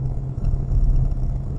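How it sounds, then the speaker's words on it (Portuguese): A Renault Captur TCe 90 petrol SUV cruises at about 130 km/h up a gentle incline, its engine a low, steady cabin hum mixed with road rumble. "sinto uma leve vibração de um motor térmico em funcionamento"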